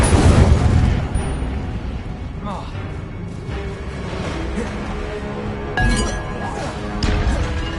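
An Incendio fire spell is cast in the Hogwarts Legacy video game: a loud, close burst with a booming, crackling rush, followed by further whooshing and clinking spell effects as a voice talks over the game sounds.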